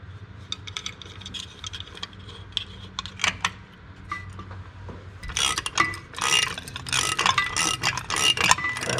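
Long screws being driven in while a ride height sensor is mounted under a 1979 Lincoln Continental, with metallic scraping, clicks and ratcheting clatter that build into louder dense bursts near the end, close up with no talking.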